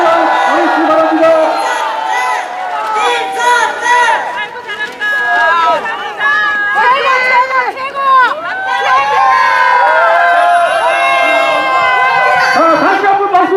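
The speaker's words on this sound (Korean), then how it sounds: "큰 박수 보내주시기 바랍니다" A large outdoor crowd at a political prayer rally in Pohang's Yeongildae cheers, shouts and whoops in loud, overlapping voices, with rising calls swelling and falling. Any clapping is buried under the vocal din.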